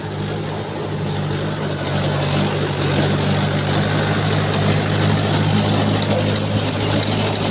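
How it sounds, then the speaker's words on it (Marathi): A tractor driven by Dnyaneshwar Patil working a subabul plantation with a rotavator, its engine running at a steady, loud low drone with a constant hum and no pauses, close by. "ज्ञानेश्वर पाटील स्वतः ट्रॅक्टर चालवत"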